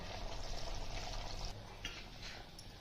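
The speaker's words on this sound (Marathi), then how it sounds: "आणि मग त्या टाकूया आपण गरम पाणी" Hot water poured into a pot of browned chicken curry gives a steady, close splash and gurgle that runs for a few seconds, easing off slightly near the end.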